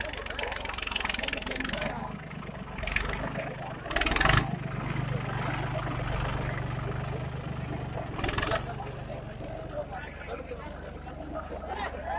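A John Deere 5310 tractor with a technical fault, giving off white smoke and fire at a harrow competition, runs with a steady mid-pitched engine drone. Crowd babble and voices sit over it, with a few louder sharp bursts.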